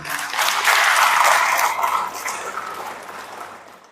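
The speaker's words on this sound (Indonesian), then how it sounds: "Aplaus dulu untuk semuanya." Audience at a school gathering breaks into applause that swells quickly, holds for about a second, then thins and fades out toward silence.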